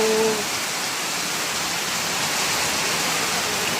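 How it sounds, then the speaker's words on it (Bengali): Heavy storm rain pours down in Feni, Bangladesh, a dense, steady roar of water that holds at the same level for the whole few seconds with no voices. "কি বৃষ্টি"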